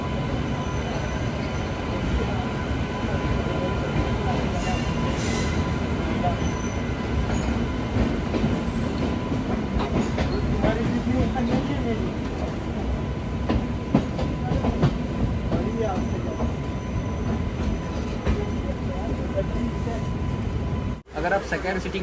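A Duronto Express passenger train leaving Mumbai Central runs along the tracks with a steady, loud rumble and rhythmic clickety-clack of wheels, heard from inside the coach, with faint squeals and a brief dropout near the end.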